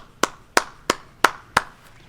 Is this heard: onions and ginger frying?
no